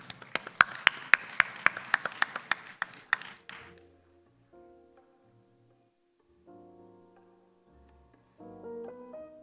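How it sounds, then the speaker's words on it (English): Audience applause at a maritime logistics and ports conference ceremony, a burst of sharp hand claps lasting about three seconds before fading, followed by quiet tonal background sound. "Big round of applause to Ms."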